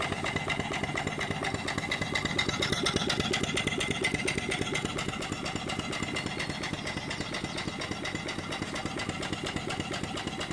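An antique steam engine runs steadily with a rapid, even mechanical chugging and hiss, loud and continuous throughout with no talk.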